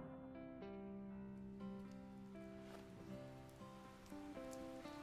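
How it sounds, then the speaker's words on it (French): Steady rainfall from the PSP game Crisis Core Final Fantasy VII, a continuous hiss of falling rain running the whole way through beneath sustained game music. "Et voilà, comme par hasard, il pleut."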